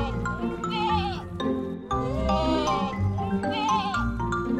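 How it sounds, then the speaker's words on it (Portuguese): A goat bleats repeatedly in long, wavering cries, loud and close, with short pauses between calls and no talking. "É uma cabra."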